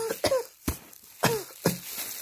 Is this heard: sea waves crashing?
no